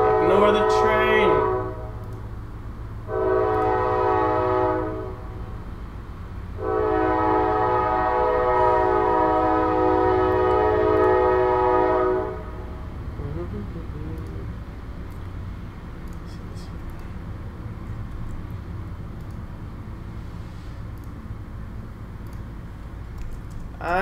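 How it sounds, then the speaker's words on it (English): A nearby train sounds its horn in long blasts, one short and then one sustained, over a low steady rumble of the passing cars, with quiet keyboard typing and a voice in the background. "Ignore the train!"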